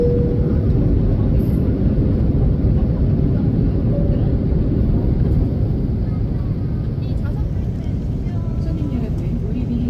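Cabin of a 24-year-old Korean Air Airbus A330 on approach to Jeju, with a loud, steady low roar of engines and airflow and no break in it.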